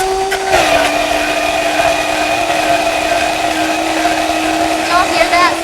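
A countertop blender with its lid on whirs at full speed while blending raw zucchini hummus. Its pitch drops and settles just after it switches up, then holds as a loud, steady motor whine.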